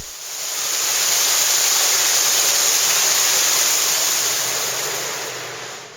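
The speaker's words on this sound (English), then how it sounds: "After a further 100 feet is the 10-foot deep Comic Act Cascade." An underground waterfall cascades ten feet in Giants Hole cave, making a loud, steady, close rushing roar of falling water that fades in and holds without a break.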